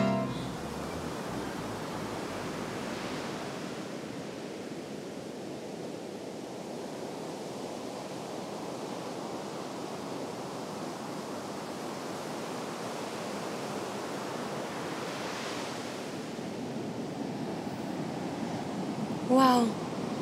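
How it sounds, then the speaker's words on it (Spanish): Sea waves roar steadily on a beach, a broad continuous rush that swells and fades. A short voice sound comes near the end. "el mar es hermoso. No sabía que era tan inmenso. Y cómo ruge, me da miedito."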